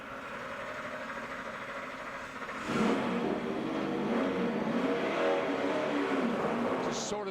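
NASCAR race car engine at Talladega Superspeedway, restarted after a stall, rising sharply into a loud, steady roar that holds through the rest of the clip.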